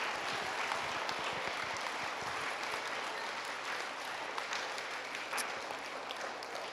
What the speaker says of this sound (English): And they're like trying to clap for Mrs. Addo